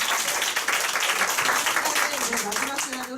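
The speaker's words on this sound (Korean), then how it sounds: "다시 한번 큰 박수 부탁드립니다" Applause from an audience at a Nu Skin TOG group meeting and awards ceremony, a steady, dense clapping that fills the whole stretch, with some talk mixed underneath.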